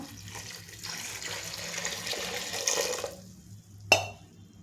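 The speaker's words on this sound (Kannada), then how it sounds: "ನೀರು ಹಾಕ್ಕೊಂಬಿಡೋಣ." Water is poured into a pressure cooker holding cumin and turmeric: a steady rushing pour for about three seconds that stops abruptly, followed by a single sharp metallic clank.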